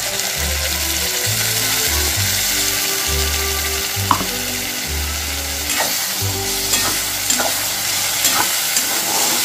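Bhetki fish frying with a coriander and green chili paste in a pan, a loud continuous sizzle under rhythmic scraping strokes of a spatula and low mechanical rumbling bursts, with occasional sharp clicks.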